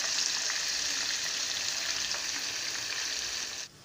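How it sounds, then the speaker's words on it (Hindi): Chicken tikka frying over low heat in oil in a kadai gives a steady, bright close sizzle with a few soft stirring ticks, then cuts off near the end. "इनको हम हल्की आंच पर फ्राई करेंगे।"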